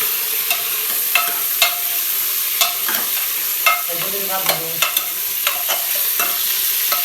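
Meat frying in a pan for a home-style desi chicken dish, with steady close sizzle and repeated sharp scrapes of a stirring utensil against the pan, no talk.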